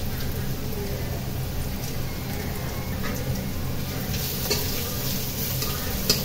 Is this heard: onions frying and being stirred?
yes